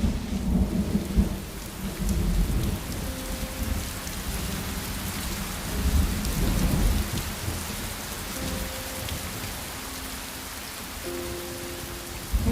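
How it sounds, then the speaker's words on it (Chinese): Steady heavy rain pours onto surfaces while rolls of thunder rumble through, loud and continuous with no voices, faint tonal notes sitting underneath. "又要下雨了。"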